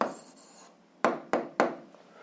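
A pen writes out an answer to a seventh-grade algebra exercise: a soft continuous scratch at first, then three crisp, close strokes at an even pace, with no voices.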